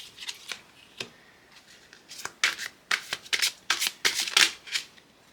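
Tarot cards shuffled close up in bursts of quick riffling snaps and slaps, growing busier and louder toward the end, with no talk.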